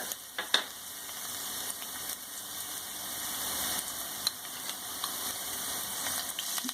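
A teaspoon of crushed garlic sizzling in two to three tablespoons of hot oil in a pan, a steady bright hiss with a couple of sharp pops near the start, close, with no talk.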